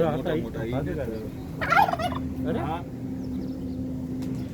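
A turkey gobbling close by, a loud warbling burst in the middle of the moment, with a person talking before and around it and a low engine-like drone underneath.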